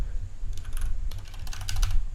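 Fingers type on a computer keyboard in quick, uneven bursts of close, crisp key clicks over a low background hum, with no talking.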